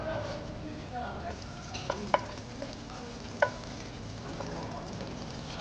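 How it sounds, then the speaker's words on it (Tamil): Green chillies fry in hot oil in a pan, a low steady sizzle under occasional sharp clicks of a spoon stirring against the pan. "நறுக்கி வச்சு க்ரீன் சில்லி போடுங்க."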